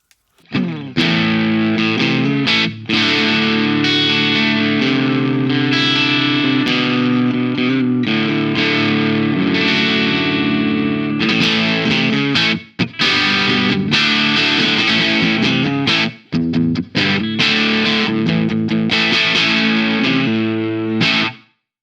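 Overdriven electric guitar through a CABM+ with the preamp gain turned up, treble 45, mids 48, bass 58; loud, continuous distorted chords and riffs with brief gaps, no talking.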